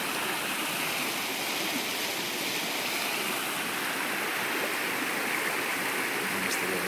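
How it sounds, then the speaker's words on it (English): River water pouring out below Horstead Mill near a canoe portage and slipway, a steady, loud broadband rush that fills the whole stretch without pause. "Water comes out here, flows down."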